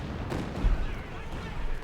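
Gunfire and explosive booms from the World War II strategy game Company of Heroes 2, a dense rumbling barrage with a heavier thump partway through, while a commentator talks over it.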